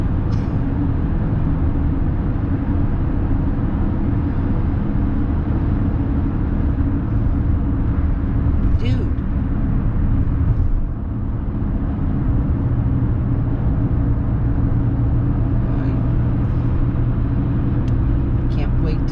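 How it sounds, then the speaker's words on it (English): Cars pass on a highway at night in a steady, loud, close rumble of traffic and road noise with no break. "I'll bet you half these cars passing me don't have 2 people."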